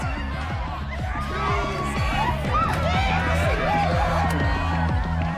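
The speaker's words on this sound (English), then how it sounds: "a mosh pit opens in the smoky dark in front of the stage" A concert crowd in the Life is Strange video game roars, whoops and cheers in a mosh pit before a stage in smoky darkness, a dense, continuous wash of voices with shouts rising over pounding music.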